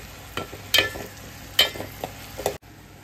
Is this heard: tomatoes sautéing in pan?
yes